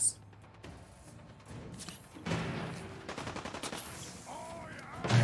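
Security guards open fire in the video game Fallout 4, a sustained rattle of rapid shots in the middle with scattered reports before and after, against game ambience.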